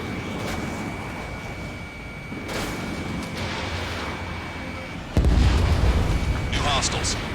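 Bombing explosions in the air combat game Ace Combat 7 rumble along through a warehouse full of ammunition, then a heavy, close blast hits at about five seconds, with radio voices in the mix.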